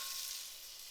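Butter sizzles in a pan over medium-high heat, a steady, soft hiss of frying heard alone for under a second.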